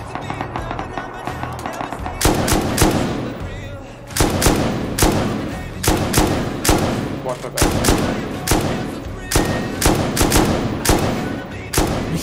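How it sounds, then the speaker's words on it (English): Explosive ammo fired at a gate in the video game Rust, loud sharp bursts of rapid shots in several clusters with brief pauses between them, each volley crackling close and dense. "see if I can take out that gate with explosive ammo"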